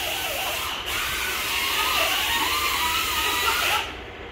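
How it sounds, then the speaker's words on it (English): A cutting tool slices off truck lug nuts in a shop during chassis maintenance on a Ford Cummins, a loud, steady, hissing grind running continuously and close before cutting off near the end. "I'm gonna go back and cut the rest of the lug nuts"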